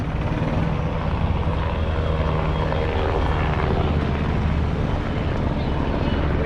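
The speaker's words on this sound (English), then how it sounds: "there's a helicopter doing some impossible things right here" A helicopter's rotor and engine drone loudly and steadily overhead at an airshow, a thick continuous whir with no pauses.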